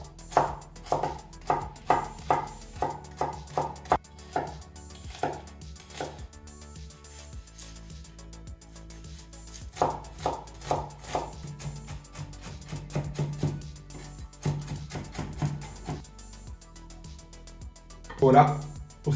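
A knife chops carrot, celery and onion finely on a board for an Italian ragù soffritto, with quick rhythmic bursts of taps that pause and resume, and a voice talking over parts of it.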